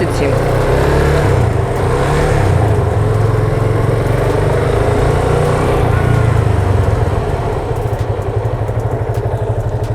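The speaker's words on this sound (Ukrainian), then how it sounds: "Зараз я використовую виключно задні гальма." Motorcycle engine running steadily and loud throughout while the rider brakes with only the rear brake, at a speed of roughly 25 to 27, with a constant low rumble and no clear pauses.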